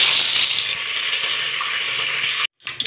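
Curry leaves crackle and sizzle in hot oil on medium heat for Maharashtrian kanda poha, a steady close hiss of frying that cuts off abruptly near the end.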